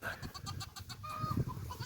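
A goat bleats in short repeated bursts, close by, with faint rustling and handling noises underneath, as it is being milked.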